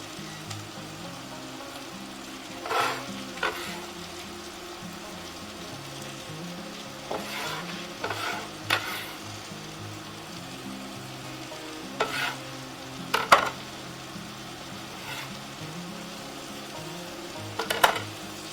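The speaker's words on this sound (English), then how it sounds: "We're going to stir them up to coat them in the butter" Mushrooms sauté in butter in a pot for cream of mushroom soup. A soft, even sizzle runs throughout, punctuated by scattered sharp scrapes and clacks of a utensil stirring.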